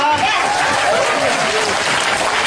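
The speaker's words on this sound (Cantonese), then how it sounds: "大家俾多啲掌聲佢啊！" Audience at a Twins fan party applauds in a dense, continuous wash of clapping with crowd voices mixed in throughout.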